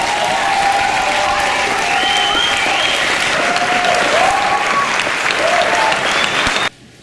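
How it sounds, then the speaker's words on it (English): Loud, sustained applause from a large crowd, dense clapping throughout that cuts off abruptly at the very end. "we need to give him one more round of applause"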